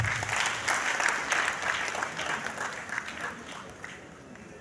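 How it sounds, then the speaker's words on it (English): Youth audience at a national youth summit in an arena giving a sustained round of applause, a dense steady clapping that slowly fades near the end. "All the youth, please give yourself a round of applause."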